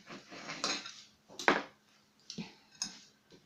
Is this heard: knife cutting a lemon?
yes